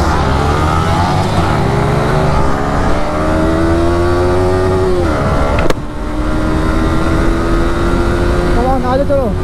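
BMW S1000RR and Kawasaki H2R superbikes accelerating hard in second gear, a loud continuous engine roar climbing steadily in pitch, a brief dip near the end before revving up again.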